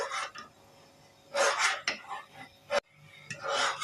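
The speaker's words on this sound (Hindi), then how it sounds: "इसमें डालेंगे ड्राई फ्रूट और चम्मच चलाते रहना है।" A spoon scrapes and clinks around a pot of sheer khurma with dry fruits, giving several bursts of stirring with short pauses in between, close up and fairly quiet.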